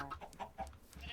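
Chickens in the video game Minecraft, a quick string of soft, close clucks in an uneven rhythm, heard alone with no talking.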